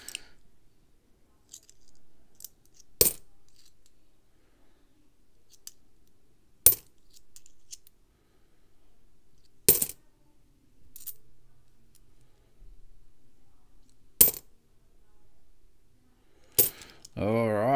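Australian $1 coins handled and dropped one at a time, giving sharp metallic clinks spaced a few seconds apart, with quiet handling rustle between drops and a person speaking at the end.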